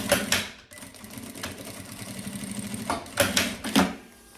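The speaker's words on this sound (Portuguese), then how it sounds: "eu vou costurar uns 3 dedinhos de cá e uns 3 dedinhos de cá de costura" A sewing machine stitches the lining of an embroidered fabric pouch in short, close bursts of rapid mechanical whirring, separated by brief pauses, with no voices.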